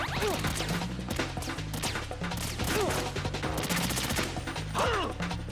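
Shotgun fire in Metal Gear Solid 2: heavy blasts and crashing impacts repeat over a busy game soundtrack, with whooshing effects mixed in and no speech.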